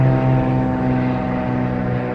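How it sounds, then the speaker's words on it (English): A propeller airplane passes overhead, a loud, steady droning engine hum with a strong low tone that holds evenly without any talking. "Planes are always kind of flying this way."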